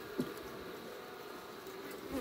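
Honey bees from an opened hive buzz in a low, steady drone, faint and constant, with a couple of individual bees passing close near the start and end.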